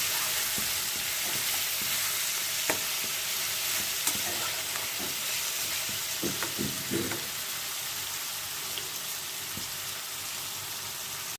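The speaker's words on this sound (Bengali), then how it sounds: "নুনটা একটু পরে দেবো, একটু ভাজা ভাজা হোক, একটু চাপা দিয়ে দিই, সেদ্ধ হয়ে যাক।" Pumpkin pieces frying in a covered pan give a steady, close hiss of sizzling oil throughout, with a short run of soft knocks and bubbling pops partway through before the sizzle settles again.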